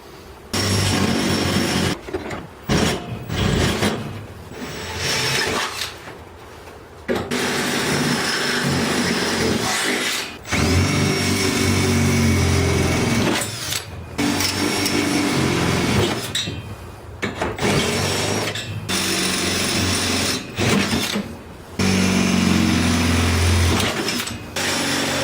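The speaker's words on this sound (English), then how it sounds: "with the roll bar securely mounted in place, go ahead and start drilling all the holes we can access" Power drill boring mounting holes for a roll bar installed in a Mazda Miata, heard in repeated loud bursts of whirring separated by short pauses, close by with no talking.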